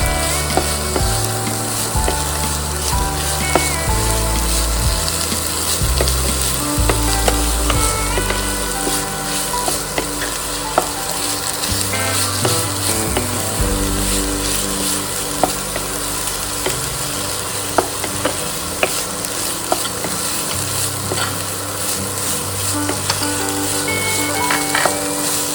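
Ground coconut paste for jackfruit bhaji fries and is stirred in a pan, a loud continuous sizzle with repeated spoon scrapes and clinks against the vessel, close up throughout.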